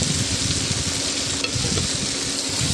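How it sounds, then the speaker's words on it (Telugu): Broad bean (chikkudukaya) fry is stirred in a pan after salting, giving a dense, loud, close frying hiss with rhythmic scraping and stirring throughout. "సాల్ట్ వేసుకున్నాక మళ్ళీ కలుపుకోవాలి ఫ్రెండ్స్."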